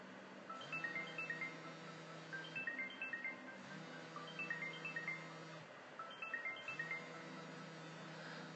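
An incoming call plays a phone ringtone: a repeating electronic melody in four near-identical bursts about two seconds apart, fairly quiet, with no talking over it.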